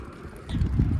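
A strong headwind buffets the microphone while cycling toward Dwarka, a low rumbling roar that grows heavier in the second half, and no talk heard.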